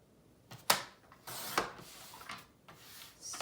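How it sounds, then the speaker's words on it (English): A paper trimmer slices through paper in a few short scraping strokes, with a sharp thunk of the blade and rustling between cuts, all close and quiet, no voices. "this over to my paper trimmer and I'm going to cut off at this bottom edge"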